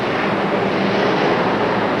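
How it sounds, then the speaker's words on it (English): Monster truck engines roar at full throttle during a 1987 USHRA race in Minneapolis, a supercharged motor against an alcohol-fueled one, with the Mustang-bodied Wild Stang among them. The roar is loud, dense and continuous, filling the arena. "Supercharged motor against an alcohol motor."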